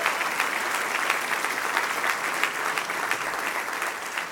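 Sustained applause from a large audience at a formal gala dinner, dense steady clapping filling the hall without a break, fairly loud and even throughout.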